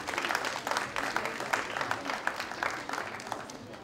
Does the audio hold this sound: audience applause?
yes